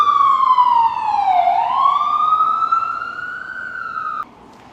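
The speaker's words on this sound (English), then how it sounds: "And here goes that ambulance, right on cue." An ambulance siren wails loudly, its pitch sweeping down and then rising again as it passes close by, then cuts off abruptly near the end.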